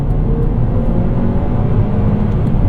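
A 2013 Mazdaspeed 3 engine drones loud and steady from inside the car under hard acceleration on the road, with a broad low rumble and road noise holding throughout.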